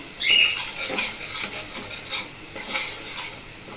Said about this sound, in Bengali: তো এটাকে ভালো করে কষাতে হবে।